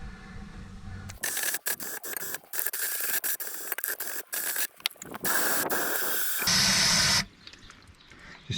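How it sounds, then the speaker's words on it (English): Short hissing bursts of aerosol degreaser and brake cleaner spray onto sludge on a bulldozer's undercarriage, arriving in choppy squirts with a longer sustained spray near the end, close and moderately loud. "Might go and get some degreaser and some brake clean or something like that and give it a good squirt down"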